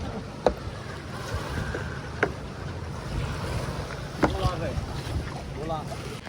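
A boat moves across open water in the Philippines, with a steady rush of wind and water, occasional knocks and a voice speaking briefly near the end.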